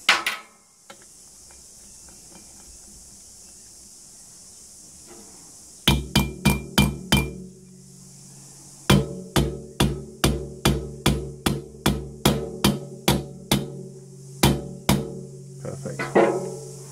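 A rubber hammer tapping a part home on a Yamaha Viking cylinder head during a rebuild: one sharp knock, a quiet gap, then bursts of quick ringing taps in short runs of four or five, loud and close, with no talk.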